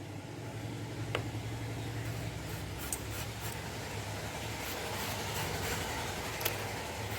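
Street traffic of cars passing outside a home, a steady low rumble of engines and tyres with a couple of faint sharp clicks, moderately loud and continuous, no talk.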